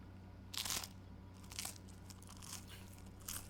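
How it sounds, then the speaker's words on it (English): Crunchy tavern bread being bitten and chewed in Final Fantasy XVI, a few distinct crisp crunches spaced about a second apart over a low steady background hum. "That's a good crunch."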